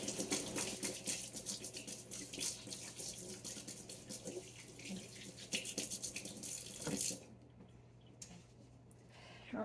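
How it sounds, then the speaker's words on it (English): Tap water running over hands at a kitchen sink, a steady rushing splash with brief shifts as the hands move, close, then cutting off near the end to a quiet room. "So I'm gonna wash my hands."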